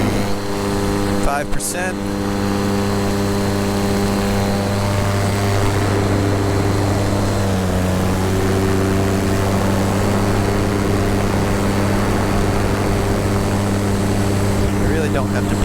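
Electric paramotor propeller motor running at full throttle in flight, a steady loud droning whine with strong harmonic tones throughout, a brief rustle near the start and a voice talking briefly over it.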